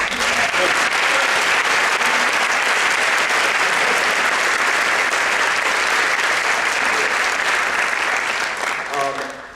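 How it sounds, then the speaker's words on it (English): Parents in a concert audience applaud warmly for a children's ensemble leader, a full sustained wave of clapping that holds steady, then tapers off near the end as a voice returns. "Please clap for her."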